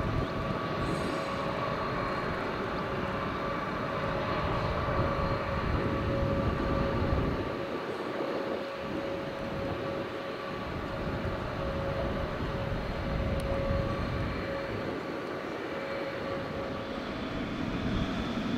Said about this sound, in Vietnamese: chiếc 777F của hãng Turkish Airlines xếp dỡ hàng xong và tiến ra đường băng cất cánh